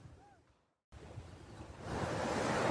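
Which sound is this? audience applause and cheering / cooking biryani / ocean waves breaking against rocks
ocean waves breaking against rocks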